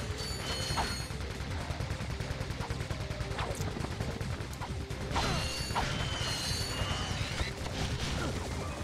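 Supply crates being smashed in the Ratchet & Clank video game, a dense run of rapid cracking breaks and metallic clatter over constant game music and effects, loud and continuous.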